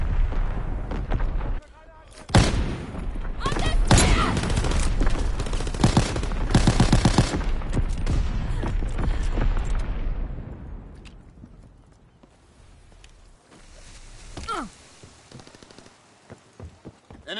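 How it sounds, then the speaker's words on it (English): Heavy naval primary battery guns fire in a Call of Duty World War game, loud booming salvos crowding the first ten seconds before fading to quieter rumbles, with game voices over the top. "Firing primary battery."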